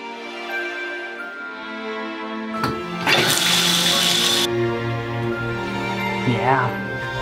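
Tap water runs and splashes into a tub for a miniature husky (Alaskan Klee Kai) puppy's first bath, starting loud and steady after a brief clunk, with people talking over the flow.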